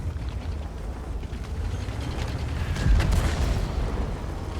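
A heavy tank cannon boom in a video game, from an Object 268 Version 4 tank destroyer, with a low rumbling tail against a steady mechanical background drone, a single shot with no voices.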